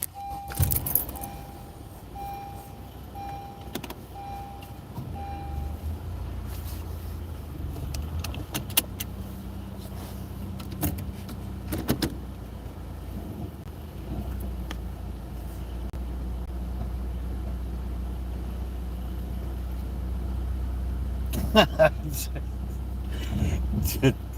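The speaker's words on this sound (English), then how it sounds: "I guess I'll use my car for that." Keys jangle and a car starts, then its engine idles at a low steady rumble, with someone talking over it and occasional clicks and knocks.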